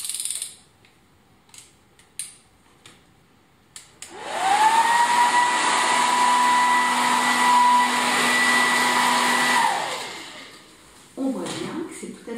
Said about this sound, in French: C'est parti maintenant avec le sèche-cheveux.